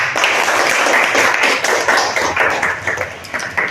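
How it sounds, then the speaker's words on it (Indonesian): A classroom group claps their hands together, a loud, busy patter of many palms with slight uneven pulses, close and sustained throughout. "Siapa lagi tadi yang tepuk tangan?"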